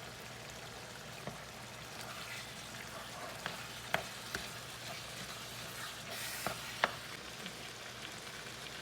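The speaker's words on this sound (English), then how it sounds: "we'll brown it till it's nice and brown" Beef browning in a pan for chili rellenos, a steady low sizzle and frying hiss throughout, with a few sharp pops and spatters rising above it at moderate loudness.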